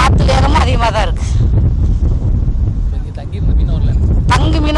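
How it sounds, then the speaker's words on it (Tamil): Strong wind off a rough, churning sea buffets the microphone in a loud, constant low roar along a fishing coast, with a person speaking over it at the beginning and end. "காற்று வேகமும் அதிகமாக தான் இருக்குது"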